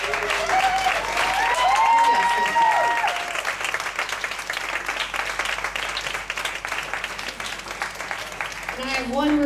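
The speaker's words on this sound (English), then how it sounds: "give a round of applause for yourself" Audience applause at a storytelling night at a bar venue, sustained broadband clapping over the whole stretch with scattered cheers and a voice or two rising over it near the start and end.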